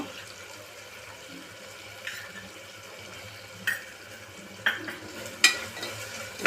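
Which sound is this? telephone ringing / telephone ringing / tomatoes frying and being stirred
tomatoes frying and being stirred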